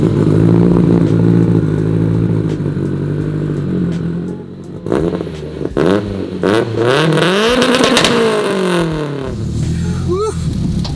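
A giveaway car with a manual clutch idles loudly, then revs repeatedly in rising and falling sweeps as it pulls away, engine close and dominant throughout.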